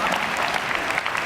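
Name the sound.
audience round of applause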